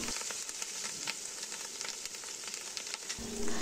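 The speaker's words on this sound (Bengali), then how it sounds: "আমি লবণ হলুদ মাখিয়ে রাখা ডিমগুলো এক এক করে ভেজে নিচ্ছি।" Rohu fish roe, coated in salt and turmeric, fries in hot oil with a steady, dense sizzle and crackle that continues throughout, close and fairly quiet.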